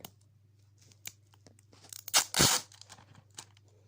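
Tape peels and tears away in a few quick rips, the loudest and longest tear coming in the middle, against a faint low hum in a quiet room.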